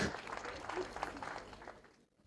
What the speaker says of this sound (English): A round of applause for Regan Craig.